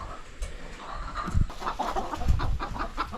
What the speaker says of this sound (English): Chickens are out here freaking out.